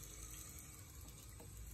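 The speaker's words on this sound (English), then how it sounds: "turn on the water, and fill up the measuring cup until it's" Tap water runs steadily into a measuring cup at a kitchen sink, a soft continuous hiss heard close up with no talking over it.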